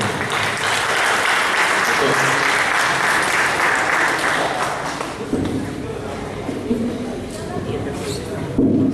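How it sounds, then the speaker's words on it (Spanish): Strong, sustained audience applause fills an evening ceremony hall, loud and dense for about five seconds before thinning into scattered claps and crowd murmur. "una vez más, por favor, un fuerte aplauso"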